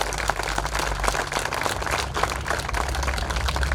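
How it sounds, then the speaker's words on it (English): Applause for sponsors at a mural dedication, with a crowd clapping steadily and densely throughout and no break or talk. "So we can give them a round of applause, all three of them."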